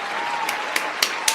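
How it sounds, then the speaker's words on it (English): Brief applause on a casual talk show: a few scattered, distinct claps over a steady background hiss and tone, with a small group rather than a large crowd. "applause for that"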